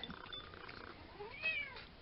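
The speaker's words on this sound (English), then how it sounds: "This is my cat." A pet cat named Millie gives a soft, drawn-out meow indoors, fairly faint and close against a steady background hiss, with a brief rising tonal cry near the end.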